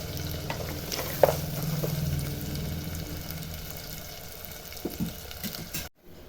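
Small onions frying in oil with mustard seeds, a continuous close sizzle with one brief clatter early on, before the sound cuts out abruptly.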